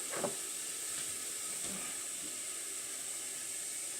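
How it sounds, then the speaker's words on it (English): Basil leaves hitting hot oil in a pan for an old Southern Italian pasta sauce, giving a steady close hiss and sizzle that runs the whole time with a few soft crackles near the start. "So I'm going to put the basil in first, so that way the oils can open up this flavor"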